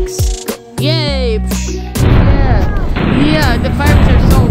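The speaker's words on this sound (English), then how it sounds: "Yeah, the fireworks are so amazing." Fourth of July fireworks bursting loudly and continuously, with whistling rises and booming, crackling explosions layered on top of one another, close and overwhelming.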